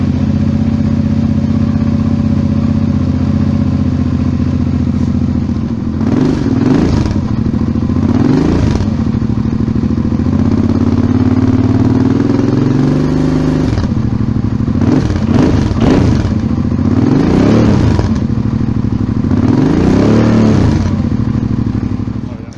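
A Suzuki V-Strom 650 with a Delkevic exhaust and the baffle fitted idles with a loud, steady burble, rising in several quick revs before settling back to a low rumble, recorded close up.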